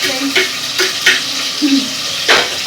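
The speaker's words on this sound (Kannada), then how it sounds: "ಈರುಳ್ಳಿ ಹಾಕಿ ಚೆನ್ನಾಗಿ ಫ್ರೈ ಮಾಡ್ಕೋಬೇಕು" Onions sizzle in hot oil with a soft continuous crackle, punctuated by several scraping stirs of a spoon against the pan.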